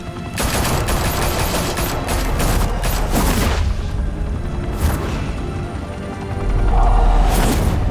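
Loud sustained gunfire in Batman The Telltale Series, a close, continuous fusillade with heavy booms and crashes toward the end and no voices.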